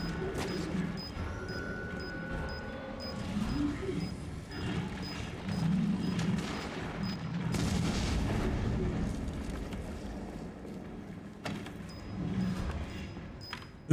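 Muffled booms and rumbling blasts come from an explosion in the Resident Evil 7 video game, rolling at moderate volume with no talk in the clip.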